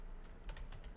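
Keys tapped on a computer keyboard to enter a name, a brief run of several close, crisp clicks in an irregular rhythm with no talking.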